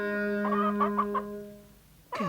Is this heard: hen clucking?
yes